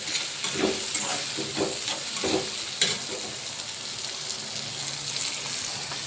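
Chili and tomato sizzle and fry in hot oil with onions and turmeric as a spoon stirs through them, a steady close crackle with a few scraping strokes and one sharper clack.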